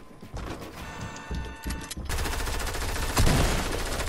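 Rapid bursts of gunfire in Fortnite Chapter 2, starting sparse and then turning into a dense, loud volley of overlapping shots with a sharp crack near the end.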